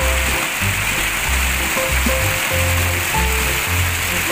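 Fast-flowing water rushing down the tiered falls of the Waduk Keliling Brayeun reservoir, a dense, continuous roar with a pulsing low churn, close and loud with no voices.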